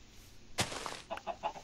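Short clucks from chickens in Minecraft on PS4, a few quick calls in a row after a soft thump, faint and close.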